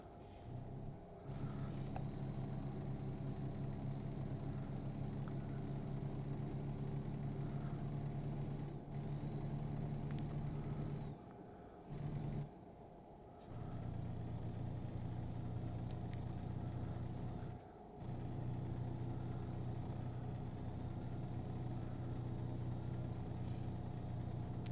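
A truck engine in American Truck Simulator labours up a steep hill with a steady, droning mid-range hum, dipping briefly a few times before resuming at an even, sustained level.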